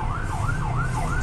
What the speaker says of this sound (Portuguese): Eu ouvi até sirene ali da polícia.